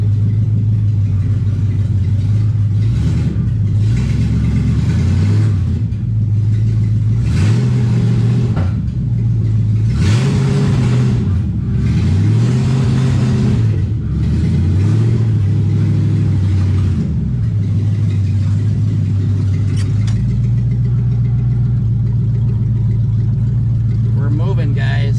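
A pink Plymouth Duster's engine idling loud and close, revved up and down in several rising and falling pulls before settling back to a steady rumble, with someone talking over it at times.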